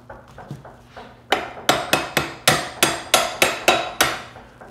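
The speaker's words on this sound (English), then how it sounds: "Brass hammer always helps." A brass hammer striking metal parts while assembling a JD2 Model 32 tubing bender: a few light taps, then a run of about eight loud, evenly spaced ringing blows up close.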